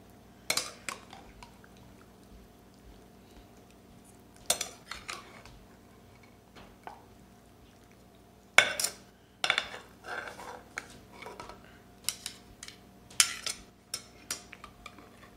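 Chicken broast marinade mixture being stirred in a bowl, heard as scattered clinks and scrapes of a utensil against the dish, sparse at first and then busier, fairly close with quiet pauses between strokes and no talk.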